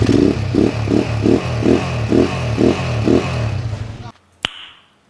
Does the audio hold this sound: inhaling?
no